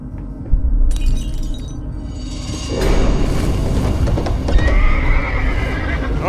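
Horse in a horror video game whinnies and neighs loudly as it is stabbed, with hoof clatter and a sharp crash-like burst among dense game sound effects.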